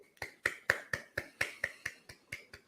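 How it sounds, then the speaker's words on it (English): A slow, soft round of polite golf-clap applause, about a dozen evenly spaced light claps, close and clear with no talking over them. "Golf clap."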